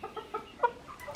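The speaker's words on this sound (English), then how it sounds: "4 little roosters over there" Four young roosters give a quick series of soft, short clucks, quiet and a little distant, with light farmyard background noise.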